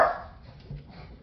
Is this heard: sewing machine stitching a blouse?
no